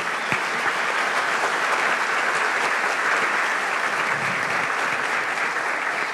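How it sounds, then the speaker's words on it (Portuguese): A chamber audience at a youth council inauguration gives sustained applause for former youth councillors, even and full-bodied clapping with no break. "Eu queria uma salva de palmas para eles."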